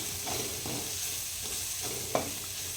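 Masala powders being stirred into a mushroom gravy in a pan, soft scraping strokes repeating over a continuous low sizzle, close and steady, ending with a sharper knock of the spoon.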